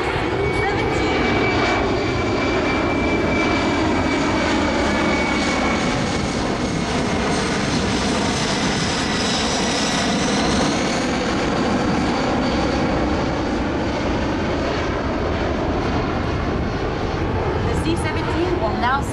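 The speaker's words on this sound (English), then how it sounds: "capture the experience of this amazing, state-of-the-art, all-encompassing tactical C-17" A USAF C-17 military transport aircraft roars past during a demonstration flight at the Singapore Air Show, its loud broadband jet-engine noise sustained throughout with a slowly shifting whine, while a commentator's voice carries over it.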